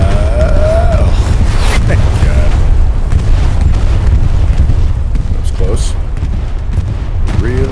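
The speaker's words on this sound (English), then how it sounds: "careful, there's a bomb and run coming down" Bombing-run explosions thunder in the Hell Let Loose video game, a continuous heavy rumble of booms and blasts rolling close by without letup, with faint indistinct voices under the din.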